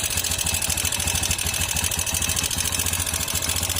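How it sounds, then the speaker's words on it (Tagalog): A Honda TMX 125 Alpha motorcycle engine with a known noisy valve issue idles steadily, a close, loud, even mechanical clatter with a low throbbing pulse throughout. "paparinig ko sa inyo kung ano tong ingay na narinig natin sa TMX 125 na Alpha"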